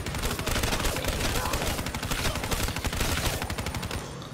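Minigun fire in Black Ops 3 Zombies, a dense, rapid stream of shots roaring continuously and loudly for several seconds without a break.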